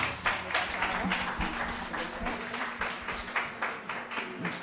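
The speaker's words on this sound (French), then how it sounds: "Madame Lauriette Chantal, sur vos applaudissements." Audience applause at a colloquium on pan-African education, a dense wash of many hands clapping steadily for several seconds at moderate distance, with no speech over it.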